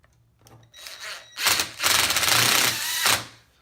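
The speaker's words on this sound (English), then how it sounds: "Go ahead and insert your H10 bolt and secure." H10 bolt being inserted and secured during furniture assembly, a few short scraping and rubbing sounds, then two louder sustained rasping turns of metal on metal, close and clear with no talking.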